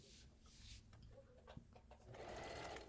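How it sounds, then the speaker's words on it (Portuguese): A sewing machine stitches the finishing seams of a patchwork crossbody bag, a fast, steady mechanical whir that runs close and continuous, with a brief click partway through. "E venho costurando, fazendo o acabamento aqui em toda essa parte."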